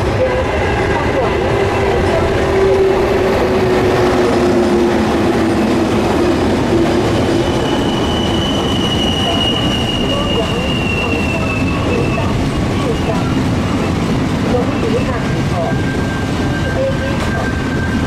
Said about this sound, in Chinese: 现在要进站的是12:10，经由山线开往屏东121次自强号本次列车